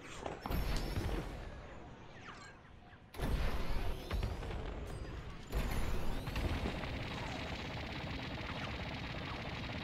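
Gunfire in a competitive team video game match, dense bursts of shots and explosions layered over constant battle noise, loud and continuous with sharp surges throughout.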